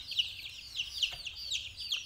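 Chicks cluck and peep in a one-metre-wide rearing cage, with repeated high chirps about every half second, near and fairly clear over a low steady background hum.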